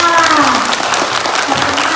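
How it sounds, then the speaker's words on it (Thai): Students applaud to thank their teachers at an English camp at a Thai school, dense clapping from a group that continues under a voice. "ขอเสียงปรบมือขอบคุณอาจารย์และพี่ ๆทุกท่านค่ะ"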